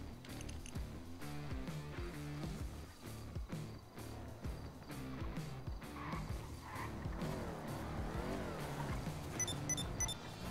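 Car engine and mechanical whirring from a vehicle driving in the GTA RP video game, a steady drone with shifting tones and a rising whine toward the end, no talk.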